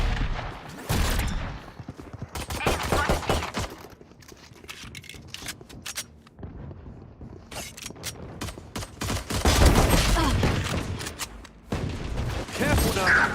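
Rapid bursts and volleys of video game gunfire, loud and dense with mechanical clatter, while players talk over the shooting.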